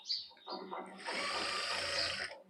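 A sewing machine runs in a steady whirring burst while stitching an umbrella-style dress, close by, with someone talking over the motor.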